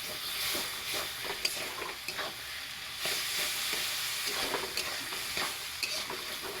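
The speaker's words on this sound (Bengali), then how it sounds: "কড়াটা আমার পুড়ে যাচ্ছে, এখন আমি জল ঢেলে দিই" Water sizzling and bubbling in a hot, scorched kadai while peas are being cooked for ghugni, a soft steady hiss with scattered light scrapes and clicks, fairly quiet and without speech.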